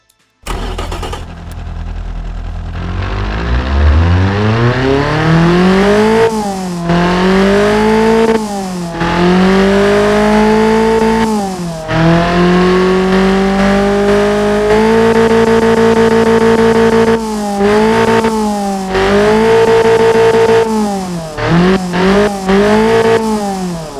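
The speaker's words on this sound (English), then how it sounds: "let's fire it up and let's hear the new exhausts" A tuned Toyota 2T-G engine with new exhausts, in the Automation car game, starts up and then revs repeatedly. It climbs to high pitch and drops back in several loud, close bursts, with short pauses between them.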